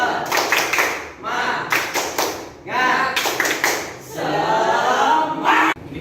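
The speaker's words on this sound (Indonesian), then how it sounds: "tepuk semangat" A group claps a rhythmic spirit clap in short, energetic bursts separated by brief pauses, with voices mixed in.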